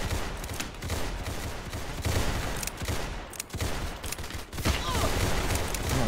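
Rapid, continuous gunfire from a shooter in the Roblox game Arsenal, dense bursts of automatic shots running loud and nearly unbroken, with brief dips between volleys.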